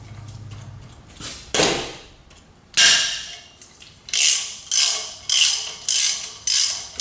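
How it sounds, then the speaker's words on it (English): A ratchet loosens the brake rotor retaining screw on a 2015 BMW X3 (F25), two separate clicking pulls followed by five evenly spaced loud ratcheting strokes, close up and without talk. "to remove this screw"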